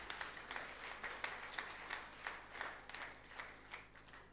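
A church congregation applauds loudly for the Almighty, a sustained run of rhythmic clapping that swells in waves with faint voices underneath.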